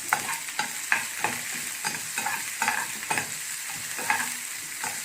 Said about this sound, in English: Just mix it for 1 minute till onion gets translucent.